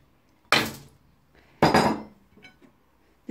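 Chilli and onions drop into a clean, dry pan with the heat off, giving two distinct clattering bursts of pieces scattering across the metal, close and fairly loud, followed by a few faint light taps.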